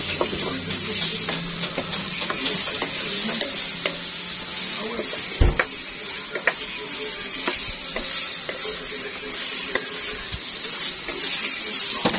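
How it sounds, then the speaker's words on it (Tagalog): Meat being sautéed in a home-kitchen pan, a steady crackling sizzle with scattered clinks and stirring scrapes running throughout, close by with no talk. "naggisa na ako at ginisa ko ng yung karne"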